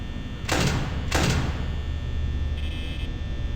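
Security doors in the video game Five Nights at Freddy's, two quick heavy sliding thuds in succession, followed by a faint electronic buzz, over a steady low ambient hum.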